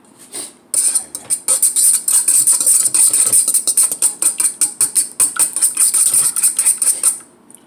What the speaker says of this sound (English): I'm only going to beat the eggs until the yolk is broken